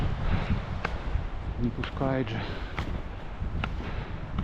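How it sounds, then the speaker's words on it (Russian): Strong wind blowing along a high mountain rock wall below Maly Tkhach in winter, a steady broadband rush loud near the microphone, with a person talking briefly over it. "Стеной всегда ветер."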